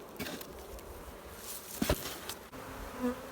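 Honeybees buzz steadily around beehives in an apiary, a dense, continuous hum near the listener with a few louder passes as individual bees fly close, heard alone without talk.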